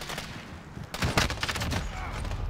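Bursts of gunfire from the Modern Warfare video game, a dense run of rapid shots starting partway in and continuing loud to the end over a busy game background.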